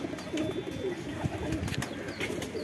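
Pet pigeons, a pair of good flying birds, male and female, coo softly and repeatedly close by, with rustling and faint chirps in the background.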